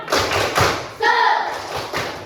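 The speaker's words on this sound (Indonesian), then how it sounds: "Ayo, 1, 2, 3, tepuk semangat" A school class performs the rhythmic 'tepuk semangat' clapping chant together, with several loud bursts of unison claps and thumps close by and children's voices chanting between them.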